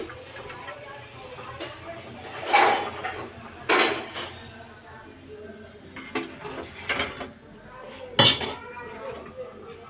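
Glasses and dishes clink and clatter while being handed out to children at a Purnima meal, sharp intermittent clinks close by, with someone talking between them.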